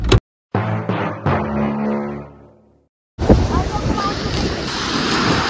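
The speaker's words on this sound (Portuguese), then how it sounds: "Desculpa o vento aí, galera. Tá muito forte." Strong wind gusts buffet the microphone on a lakeshore in Bariloche, Argentina, a loud roaring rush that fills the latter half after a stretch of voices and a brief silence.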